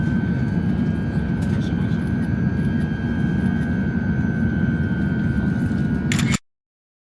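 Inside an airplane cabin on a seven-hour flight from Abu Dhabi to Paris, a steady low engine roar with a faint constant whine fills the space, punctuated by a few small clicks before cutting off abruptly.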